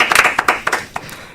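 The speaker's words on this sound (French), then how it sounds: "On peut même t'applaudir." A small group claps in bursts of quick, uneven hand claps, close and fairly loud, fading after about a second.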